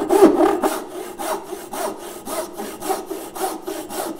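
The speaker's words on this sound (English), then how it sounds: "if you're cutting the cheeks of your tenons, it's very effective, just as effective as a tenon saw" A frame saw rips through wood to cut the cheeks of a tenon, giving steady back-and-forth rasping strokes, about two per second, close and fairly loud with no talking.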